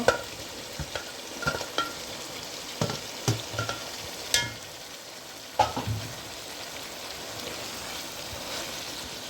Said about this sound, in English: my meat getting fried nicely. Here goes my frozen peas. And my tomato